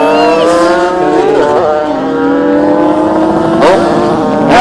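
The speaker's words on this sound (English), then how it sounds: "That's the pure two-stroke sound right there." Two-stroke motorcycle engines rev loudly and continuously at a drag meet, their high harmonic whine rising and falling, with sharper throttle surges near the start and toward the end.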